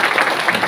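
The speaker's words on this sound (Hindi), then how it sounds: "इसलिए आप सबके लिए एक जोरदार ताली।" A brief burst of audience applause at a gathering in India, dense clapping at close range for under a second.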